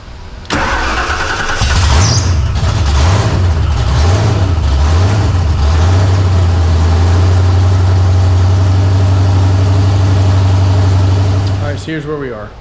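A 1987 Saleen's 347 V8 cranks and fires, surging through several rev swells before settling into a loud, steady idle close by, then cutting off near the end.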